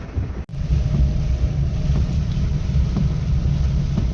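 Heavy rain pours during an Uber taxi ride in Kochi, a loud, dense, unbroken hiss with a low thunder rumble beneath it. It cuts out for a split second near the start, and no one speaks.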